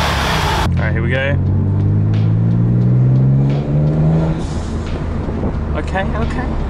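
A Mitsubishi Galant VR-4 with a GFB blow-off valve, its engine revving up loudly in a rising drone near the microphone, then dropping off with a brief whooshing vent as the throttle closes.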